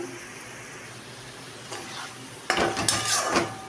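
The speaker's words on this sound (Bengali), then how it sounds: "এখানে এটাকে সামান্য একটু জল মেশাবো ব্যাস বেশি না এবার এটা নাড়া নাড়া" A spoon stirs soybean curry loosened with a little water in a pan over a quiet sizzle. It scrapes and clatters louder near the end, close by, with no speech.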